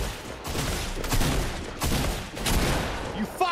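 Fortnite OG gunfire: a loud, close barrage of rapid shots in repeated bursts, nearly continuous throughout with brief gaps.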